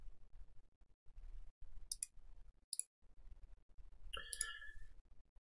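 A computer mouse gives a few sharp, close clicks on a create-list button, set against a low background hum with short gaps of silence.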